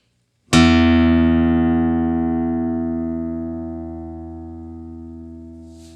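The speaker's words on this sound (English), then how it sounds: "Here's an example of what an in-tune E sounds like." A single low E guitar string plucked once, ringing steadily in tune and slowly decaying over several seconds, with no other sounds.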